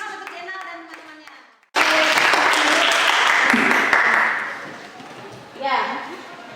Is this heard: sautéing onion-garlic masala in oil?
no